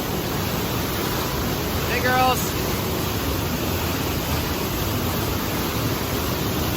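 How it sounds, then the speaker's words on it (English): Elbow Falls on the Oxtongue River, a loud constant roaring rush of falling water filling the scene, with a brief spoken greeting from someone nearby. "This is Elbow Falls on the Oxtongue River."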